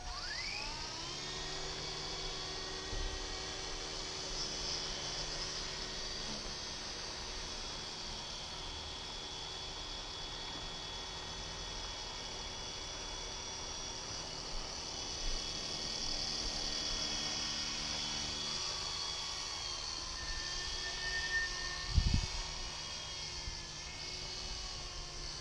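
Two WLToys V912 RC helicopters fly nearby, a steady high-pitched electric motor and rotor whine with shifting tones as they manoeuvre, continuous throughout with a brief thump near the end.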